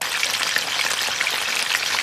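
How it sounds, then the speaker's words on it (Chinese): Meat-stuffed tofu frying in moderately hot oil for Hakka stuffed tofu, a dense continuous crackling sizzle heard close up and steady throughout. "全部塞好肉就准备煎一下。"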